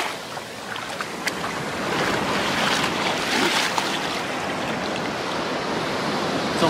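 Waves wash onto a sandy saltwater beach in a steady, loud surge of broadband rushing water that swells slightly midway and continues without speech.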